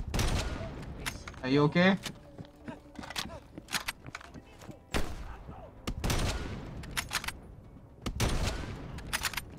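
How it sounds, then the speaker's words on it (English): Gunfire crackles through a Call of Duty: Black Ops Cold War campaign mission, sharp bursts and volleys of shots repeating near and far, with people talking between them. "Please, they're shooting at us!"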